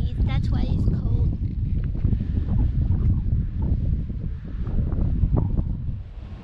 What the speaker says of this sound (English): It's windy, that's why it's cold.